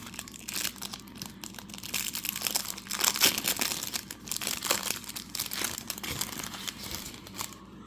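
Crinkling and tearing of a small plastic pack of 2023 Topps Series 1 baseball cards from a hanger box, close up, with irregular bursts of rustling and crackling at varying loudness.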